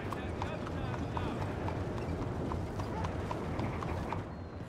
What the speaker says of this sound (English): This horse got worms or something.